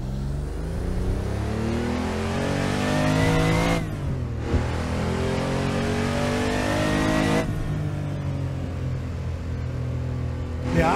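A Porsche 911 993 Turbo accelerates hard in the Assetto Corsa racing game, its engine rising steadily in pitch through two clear gear shifts with dips before climbing again, loud and continuous without speech.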